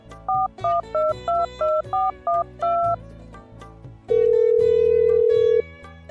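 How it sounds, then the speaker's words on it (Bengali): Telephone keypad dialing: a quick run of about nine short touch-tone beeps in even rhythm, followed after a pause by a long steady tone, clear and close with no voices. "তাই তাহাসিনকে ফোন দিলাম।"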